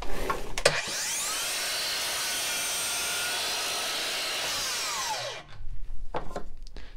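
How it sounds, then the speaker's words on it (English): Miter saw making a square cut: the motor whines up loud and close, holds a steady high scream through the cut for about four seconds, then winds down, with a few knocks before and after. "I'll show you a square cut so you can see how that's done."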